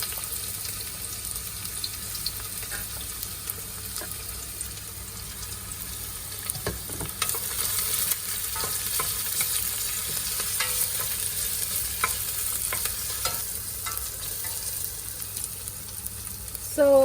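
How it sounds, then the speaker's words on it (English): Onions fry in well-heated oil for Marathi methi kapnya, a soft, steady sizzle with intermittent stirring scrapes and clinks, growing a little louder midway. "So the oil is heated well, so I'm going to add in the onions. Let's fry the onions."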